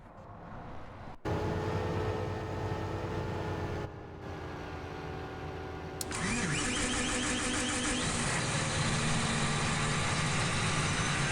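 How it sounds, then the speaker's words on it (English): Tractor engines in the Farming Simulator 17 video game crank and start, settling into a steady idle that becomes louder and brighter after a second engine joins, with a continuous mechanical drone and no talking. "I think we can start the tractors up here again."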